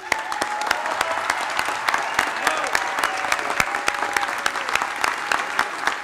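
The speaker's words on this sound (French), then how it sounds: "je veux vraiment qu'on les applaudisse très fort ce soir" Sustained crowd applause rolls through a municipal election night victory gathering, with many hands clapping at moderate volume, a few sharp individual claps standing out and murmured voices mixed in.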